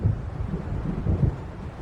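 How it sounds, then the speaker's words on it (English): Thunder from an approaching storm in the Alan Wake video game makes a low, dark rumble. It rolls unevenly for under two seconds and has no voices over it. "It seems there's a storm coming."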